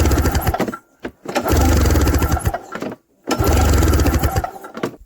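The flooded engine of a 1994 VX500 snowmobile, with wet spark plugs, is cranked over in loud, close, chugging bursts separated by brief silences, without catching.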